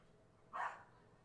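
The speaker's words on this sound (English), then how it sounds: "I don't know if you guys can hear the neighbor's dogs" A neighbor's dog gives a single short, faint bark at a distance, heard once against quiet room background.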